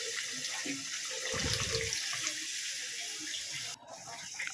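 Water poured into a pan of fish curry cooking with tomato and spice masala, a steady hissing rush that runs close and fairly loud for several seconds, then drops away near the end.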